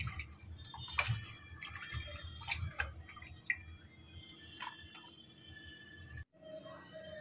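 Sweet potatoes washed under running water in a kitchen, with splashing, drips and scattered handling knocks over a steady flow, close and fairly quiet, stopping abruptly near the end.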